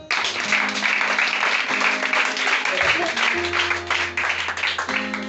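A church congregation claps and cheers for the Lord during a worship service, with dense, continuous applause that fills the room and sustained voices and music humming underneath.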